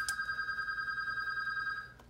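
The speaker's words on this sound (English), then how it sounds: "It's phone." A telephone rings indoors in a home craft setting, a steady electronic trill that holds for about two seconds before cutting off, fairly clear over faint room noise, with no talking.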